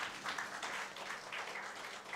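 An audience at a sociology department book release function applauds, a dense, even patter of many hands clapping at a moderate, somewhat distant level for a couple of seconds.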